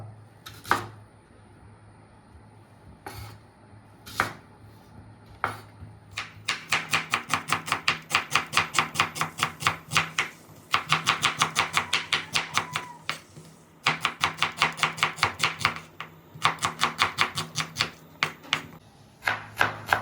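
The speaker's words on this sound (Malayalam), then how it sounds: "നമുക്ക് സവാളയൊക്കെ ഒന്ന് അരിഞ്ഞെടുക്കാം" Rapid, even knife chops slicing onions on a cutting board, coming in bursts after a few slow single strokes, close and crisp with short pauses between runs.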